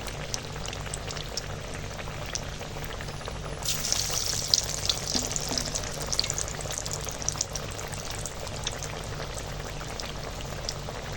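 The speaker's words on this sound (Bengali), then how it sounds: "এবার এই বড়াগুলোকে ভেজে নেব" Lentil fritters with pumpkin leaves frying in oil over a low flame, a steady close sizzle and bubbling that runs throughout and grows louder and brighter partway through, with no talking.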